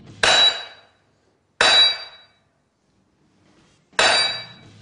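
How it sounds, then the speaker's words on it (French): A steel point chisel of about 1 kg dropped from around 30 cm onto a synthetic quartz kitchen countertop, three sharp ringing metallic clangs spaced apart, each decaying quickly into silence. "nous allons lâcher cette pointerole qui fait à peu près 1 kg à une hauteur d'environ 30 cm"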